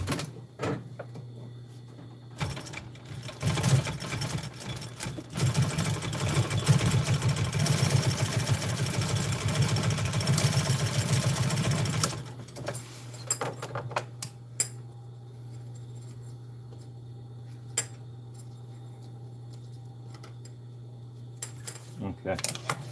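A sewing machine runs in a fast, steady whirring burst for several seconds while stitching fabric for custom truck storage, then stops, leaving a low hum, a few faint clicks and handling sounds.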